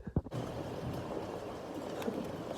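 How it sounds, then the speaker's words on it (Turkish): Hail falls outside, a steady broadband patter and hiss of pellets striking surfaces that holds at an even level throughout, with a few brief knocks near the start. "Şu an dolu yağıyor."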